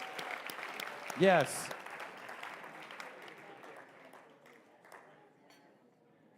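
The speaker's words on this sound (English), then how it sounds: "Give all of our amazing wine people a big round of applause" A crowd at a charity auction applauds the wine donors, steady clapping with a sharp whoop early on, tapering off while a voice talks over it.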